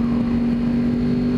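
A 2011 Yamaha R1 motorcycle engine holds a steady, loud drone as it shifts into second gear, a close and continuous hum with no talking.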